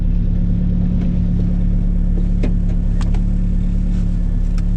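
A car with a Honda B-series engine (B20B or B16A2) pulls in second gear, a loud, steady engine drone with road rumble from inside, with a few faint clicks and rattles.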